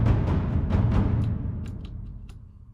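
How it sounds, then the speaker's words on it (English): Taiko drums from the Drums of the Deep Unleashed II sample library, struck in a few deep booming hits with a long reverberant tail that slowly fades away. "you can sound like this with taikos a lot."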